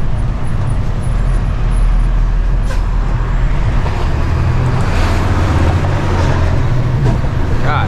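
A truck rolls over a bumpy dirt road with a steady, loud low rumble and rattling jolts throughout, while someone talks over it.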